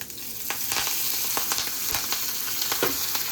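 Curry leaves crackle in hot oil for a chicken kuzhambu, a bright, continuous sizzle with sharp spitting pops scattered throughout, close and loud with no voices.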